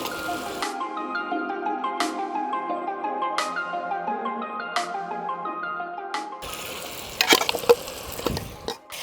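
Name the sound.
fried country chicken pieces added to sizzling pan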